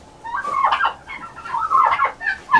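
A turkey gobbles in rapid warbling bursts inside a farm chicken coop, two loud close calls with a short pause between them and no talking.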